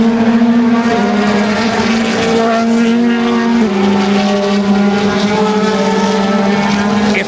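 DTM Mercedes-Benz race cars roar past at a racetrack, a loud, continuous engine drone whose pitch shifts and dips as cars pass close by, filling the whole stretch without talk.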